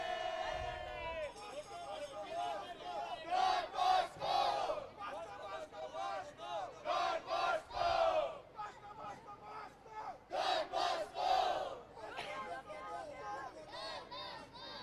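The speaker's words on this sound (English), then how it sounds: "Please, you all can cheer loudly." A crowd shouts and cheers in loud, overlapping bursts of voices for the DBIS Blasters after their B Division final win in a dads' premier league, the cheering rising and falling through the whole stretch.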